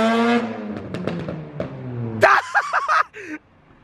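A Honda Integra DC2 fitted with a GReddy Supreme SP catback exhaust revs hard, rising through a tonal engine sweep, then breaks into choppy, uneven bursts before dropping to a low idle.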